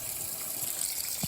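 Whirlpool WTW4815EW1 washing machine filling with cold water, a steady hissing gush heard close and alone.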